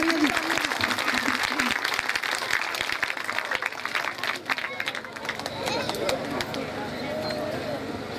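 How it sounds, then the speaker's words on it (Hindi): Audience applause at a school annual prize ceremony, a busy mix of many hands clapping with voices and crowd murmur mixed in, softening slightly partway through. "भरपूर तालियां जी"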